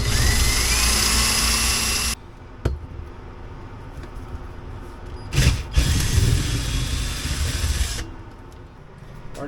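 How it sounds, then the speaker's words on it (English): A power drill bores a hole through the wall of a Geo Pro trailer, giving a loud, steady whine that cuts off, then short restarts and a second sustained burst, close up with no voices. "I'm gonna bring it out just enough to get this hole drilled"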